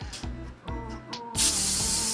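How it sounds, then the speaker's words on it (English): Cooking spray hisses out of an aerosol can onto frying pans in a home kitchen, starting with a few short bursts and ending in one longer, loud, steady spray close by. "So I'm going to spray"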